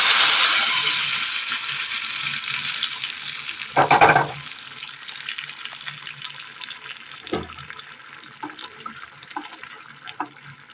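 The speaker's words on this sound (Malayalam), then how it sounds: "വേവിച്ച് വെച്ചിരിക്കുന്ന കറി ഒഴിച്ചു കൊടുക്കാം" Cooked Kerala curry is poured into a hot pan, with a loud, close rushing sizzle that slowly fades, a brief louder splash midway, and soft clinks afterward.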